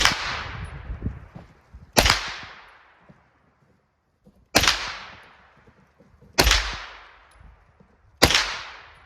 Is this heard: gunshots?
yes